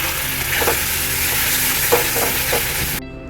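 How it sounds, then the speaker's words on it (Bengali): Poppy seed paste with green chili is stir-fried in a pan, with a constant sizzle and a few distinct scraping stirring strokes. The sound cuts off abruptly near the end. "এই পোস্ত বাটাটা দিয়ে ভালো করে কষতে হবে"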